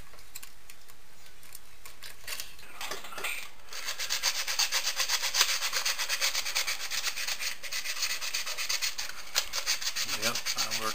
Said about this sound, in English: before I start sanding it